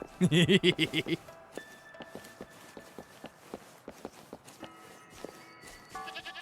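A goat in the video game Wuthering Waves lets out a loud, quavering run of bleats at the start, followed by quick, irregular running footsteps.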